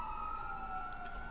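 An ambulance siren near a hospital in San Antonio, a faint, steady, sliding wail heard from a distance across a short stretch with no talking.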